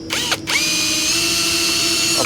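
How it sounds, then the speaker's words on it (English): A power drill bores a pilot hole through plastic while fitting a reversing camera bracket to a Toyota Prado 150, a steady close, loud whine running almost continuously after a couple of brief starts. "hold that bracket up against the plastic there and drill your pilot hole"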